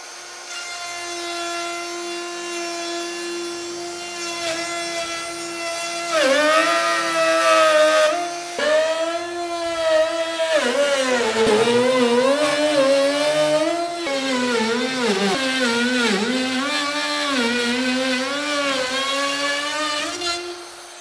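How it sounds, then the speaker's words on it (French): A drill bores a hole, then a flush-trim router cuts an opening, giving a steady motor whine that shifts into a wavering, rising and falling high-pitched cutting drone, close and continuous. "on va faire un trou pour pouvoir passer la défonceuse à fleureuse"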